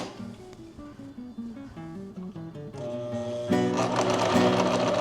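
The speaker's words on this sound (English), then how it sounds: "So let's see if we can sew this together." A sewing machine stitches fabric in short, rhythmic bursts that stop and start, then runs steadily and louder near the end, heard up close with no talking.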